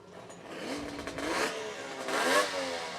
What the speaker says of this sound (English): sounds like another motorcycle. Snowmobile. Excuse me. Snowmobile engine.